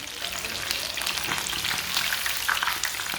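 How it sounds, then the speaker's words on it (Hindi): Chicken pieces frying in oil in a pan for a chicken roast, a bright steady crackling sizzle with small pops, close and moderately loud, with no talking. "आप देख सकते हैं एक साइड से फ्राई हो चुका है चिकन"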